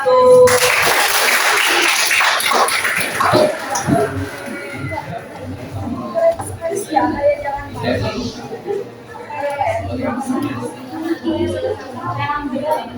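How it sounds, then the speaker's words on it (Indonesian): Classmates in a school classroom give a short burst of clapping for the first student group, strongest at the start, then fading as a voice talks over the murmur of the room. "Tepuk tangan untuk kelompok 1."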